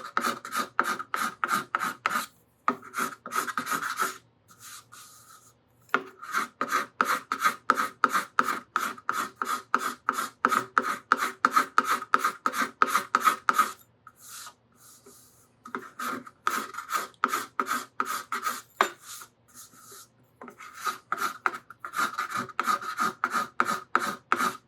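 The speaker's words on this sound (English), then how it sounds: "I'm going to scrape this edge just a little bit more because I can still feel it." A scraper rasps along the edge of a steel string guitar body in quick repeated strokes, steady bursts of dry scraping broken by a few short pauses, close and fairly quiet.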